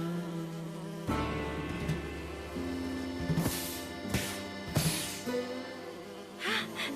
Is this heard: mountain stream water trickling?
no